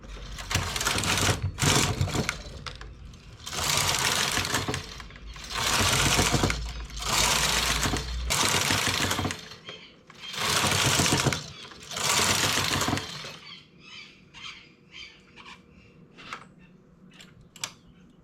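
A knitting machine working a fishnet-stitch scarf makes about six loud, sweeping whooshing passes of the carriage separated by short gaps, then ends with a series of lighter, rapid mechanical clicks.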